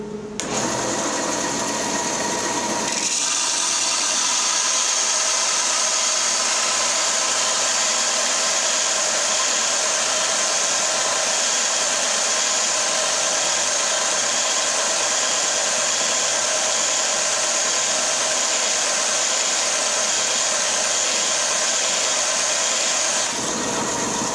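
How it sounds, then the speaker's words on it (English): Steady, loud high-pitched grinding whine as the edge of a wood chipper knife is dressed, running continuously for about twenty seconds after a brief start-up, then cutting off abruptly. "dress the edge on this chipper knife"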